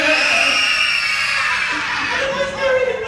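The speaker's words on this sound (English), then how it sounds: "Can I hear how loud everybody can scream?" Children in the audience at a kids' magic show in Singapore scream loudly together, a sustained high-pitched crowd shriek that holds for about three seconds and swells again near the end.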